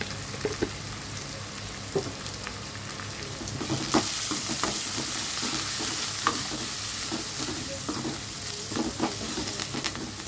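Onion frying in a pan while Ponnaganti greens dal is cooked, a steady sizzle with scattered stirring scrapes and clicks that gets a bit louder partway through; nobody speaks.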